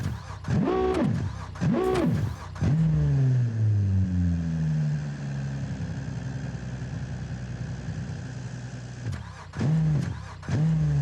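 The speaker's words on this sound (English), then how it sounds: "Why does it keep cutting the engine off?" Simulated car engine in the BeamNG driving game cutting out: a few quick rev bursts, then the pitch sags into a fading low drone, before short revs return at the end. It is loud and close, with no talking.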